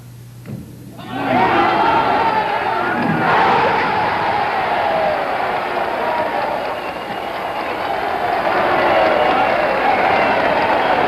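A bowling tournament crowd erupts into loud sustained cheering and applause after the twelfth strike completes a perfect game, a roaring wall of noise that builds quickly and holds for several seconds.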